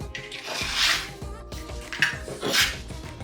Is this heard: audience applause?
no